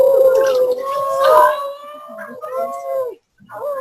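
Several young voices howl together in long, wavering, rising and falling tones, imitating dogs, with a brief pause before a final howl starts.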